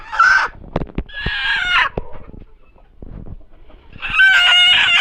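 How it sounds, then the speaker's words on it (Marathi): Close, loud bursts of a native Indian village hen vocalizing, a squawk then drawn-out cackles with pauses of scuffling between, ending in a long cackling call. "ही सुद्धा ओरिजिनल टोपाळी कोंबडी आहे हे बघा"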